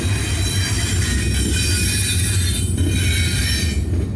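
A freight train rolls slowly past, steady and close, with a continuous low rumble and high-pitched wheel squeal running throughout, in Kansas.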